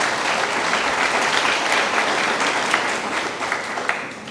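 An indoor crowd at a graduation ceremony claps in a loud, sustained round of applause with scattered sharper claps, and no talking over it.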